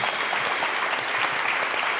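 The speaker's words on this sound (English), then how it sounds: "let's give a big round of applause" Steady, full applause from an indoor audience at an evening speaking event, a dense wash of clapping that stays loud and even with no voices over it.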